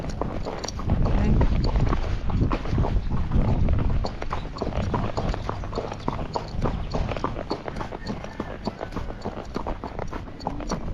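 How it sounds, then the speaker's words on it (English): Hooves of a Tennessee Walking Horse being ridden around a barn, a steady quick clip-clop over constant wind-like rumble, close, with a person talking over the hoofbeats. "So it's good to ride your horse around the barn when you get back."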